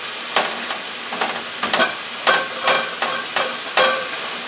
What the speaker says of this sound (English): It doesn't take long for ground beef to cook.